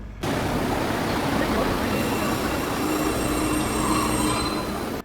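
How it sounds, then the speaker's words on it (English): An old train pulls into a station on the Belgrade to Ulcinj line, its wheels grinding and squealing loudly on the rails in a continuous, harsh rumble that lasts throughout. "The train finally came around 8:30 p.m."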